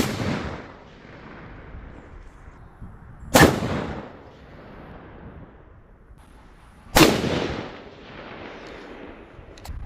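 Two sharp, loud rifle shots crack at an outdoor range several seconds apart, each followed by a long rolling echo that fades into the open air.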